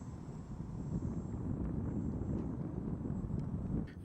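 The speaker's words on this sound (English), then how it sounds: "Takeoff is almost instant with plenty of power for climb out." A Hacker Vector RC model airplane takes off and climbs, its electric motor a steady, fairly faint whine mixed with wind rush across the microphone.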